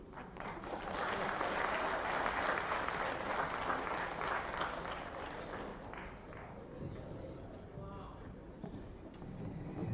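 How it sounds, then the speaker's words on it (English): An audience at a global summit applauds after a presentation, a sustained round of clapping that swells and then slowly thins out, heard from slightly far off. "Please clap for me."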